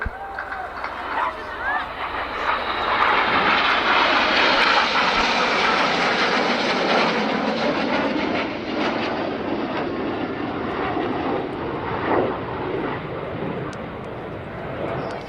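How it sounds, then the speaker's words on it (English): An RAF Tornado bomber jet flying past at the Cosford airshow, a loud roaring engine that builds, peaks and slowly fades, with crowd murmur beneath. "Celebrating the Tornado Bomber Force, in from the right, this is Tornado."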